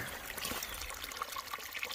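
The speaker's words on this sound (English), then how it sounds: "Water sources down here. Coming out of this pipe." Water pouring from a pipe at a trail water source beside the Rock Gap Shelter on the Appalachian Trail, a steady close trickle and splash that stays soft and continuous with no talking.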